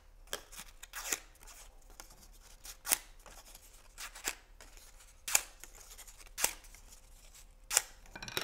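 Paper sunflower cupcake wrapper petals being curled by hand: a string of quiet, crisp paper rasps and snips at irregular intervals, close and soft, with no talking.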